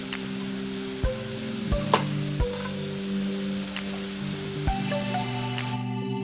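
Curry paste (masala) frying in oil in a pan for a beetroot chicken curry, a steady close sizzle with a few sharp clinks of a utensil against the pan, no talking.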